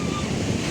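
Strong sea waves crash at a beach, a dense, loud wash of surf and wind roaring continuously through a brief moment.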